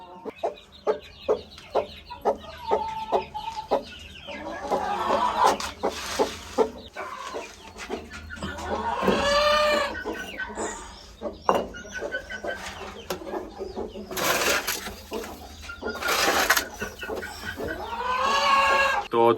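Chickens cluck and squawk nearby in repeated bursts, with a rooster's drawn-out calls rising over the flock and some other farm-animal noises.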